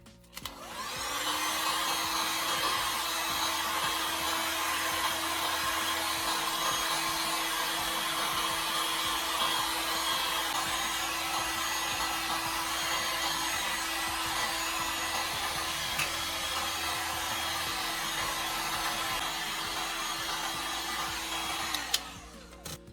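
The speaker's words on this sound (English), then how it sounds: "Now use a heat gun or a hairdryer on low to dry the circuit board and the rubber keypad." Hair dryer on a low setting blowing steadily to dry a remote control's circuit board and rubber keypad, a continuous airy whir held at even loudness for about twenty seconds before switching off.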